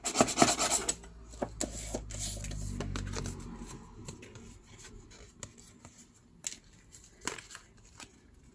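Packaging being cut up close, with rasping, rubbing cuts and crinkling handling in short irregular bursts, heaviest at the start and fainter afterward.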